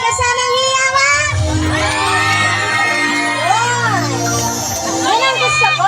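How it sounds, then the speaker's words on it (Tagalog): Crowd at a fiesta mini concert in Barangay Santol cheering, shouting and whooping loudly and close, many high voices yelling over one another continuously. "Wala pa masigabong palakpakan na may kasamang hiyawan?"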